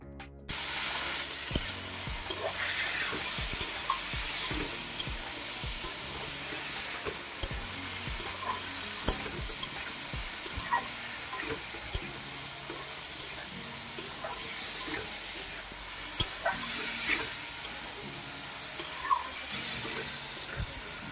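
Chili powder, cumin powder and salt sizzle steadily in a hot pan for a fish and ridge gourd curry, with scattered scraping and stirring clicks over a constant frying hiss, no voices.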